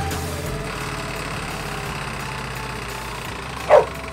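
A badly damaged Toyota engine with two large holes in the block after running on maple syrup as oil, idling with a steady uneven rumble and a brief louder rattling burst near the end.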